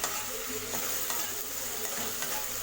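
Potatoes sauté in a pan for mutton dalcha, a soft continuous sizzle with periodic scraping strokes of a spoon stirring at a steady pace, close and quiet, no talking.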